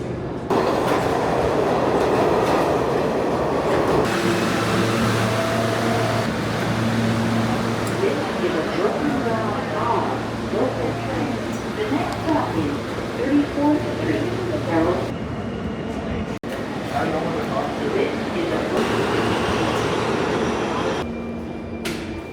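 A New York City subway train rumbles steadily along with a rattling ride, occasional screeching and clatter, and people talking over the noise.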